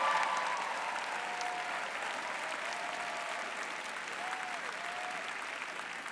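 Audience at a 2019 Emerson commencement ceremony applauds steadily, a dense wash of clapping that fades slightly over several seconds, with faint cheering under it.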